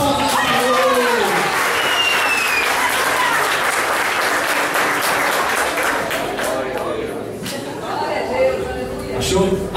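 A church congregation claps in praise to the Lord, loud sustained applause mixed with cheering voices and chatter that swells and continues throughout.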